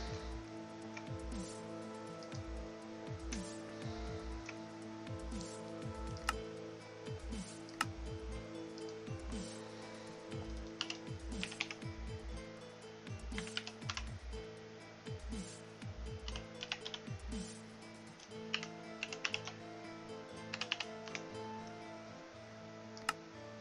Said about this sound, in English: I'm typing it in the exact way you put it in there.